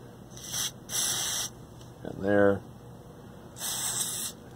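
DeoxIT contact cleaner sprayed from a can into the pots and switches of a vintage 1980s Yamaha R-2000 receiver: three short, close hissing bursts, with a brief voice between them.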